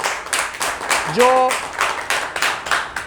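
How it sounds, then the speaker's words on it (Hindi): An audience claps to welcome Manoj Bhardwaj at a Hanuman devotional gathering, a run of scattered, moderately loud claps heard under someone speaking. "एक बार चाहूँगा हमारे जोरदार तालियों से स्वागत भी करें हमारे मनोज भारद्वाज जी"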